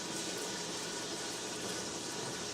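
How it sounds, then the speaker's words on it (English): Meat sizzling steadily in a hot pan, a dense continuous hiss with faint crackles, close by and with no talk over it. "You can hear the meat sizzling over there"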